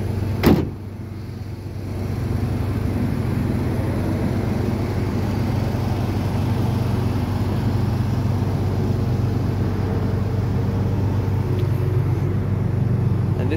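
A 2022 Ford F-250 diesel idles with a steady, deep, close rumble throughout, after a short knock at the start.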